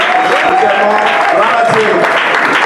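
A church congregation at an inauguration service applauds loudly and continuously, a dense wash of clapping with voices calling out over it.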